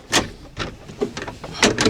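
Land Rover door being forced open, with several sharp clunks and rattling knocks in an uneven series, close and fairly loud.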